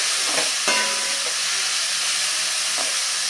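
Chopped onion, tomato and bell pepper sizzle steadily in a pan for street-style pav bhaji, a constant close frying hiss with a few stirring scrapes and clinks.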